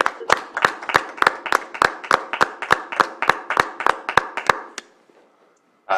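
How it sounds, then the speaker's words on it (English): A small group applauds at a county board of supervisors meeting, with a steady run of crisp, evenly spaced claps for about four and a half seconds before they stop abruptly and the room goes quiet. "We have to give you a round of applause, Gary, for your service."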